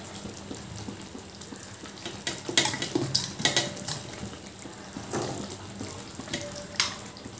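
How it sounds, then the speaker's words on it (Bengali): Fried katla fish pieces going into a pot of simmering gravy for a coconut-free malaikari, a soft, steady bubbling and sizzling bed with a few brief louder splashes and clinks, fairly faint. "এবার আমি যে কাতলা মাছগুলো ভেজে রেখেছিলাম, মাছগুলো দিয়ে দিচ্ছি।"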